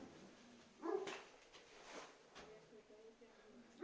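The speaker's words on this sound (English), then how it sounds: "Neighbour's dog there is giving me a bit of jip" A neighbour's dog barks a few times in the background outside a house, fairly distant, with a person talking over it.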